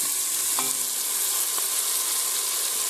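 Chopped onion fries in a hot pan with a dense, bright, continuous sizzle, close and even, with a couple of faint clicks and no talking.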